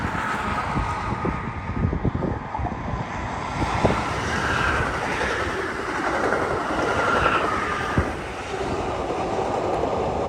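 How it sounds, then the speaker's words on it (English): An Amtrak passenger train led by Genesis locomotives with older coaches rolls past at Aurora, a loud sustained rumble and wheel noise filling the scene, with faint clicks of rail joints and no voices. "we caught the Amtrak once again, heading back the other direction"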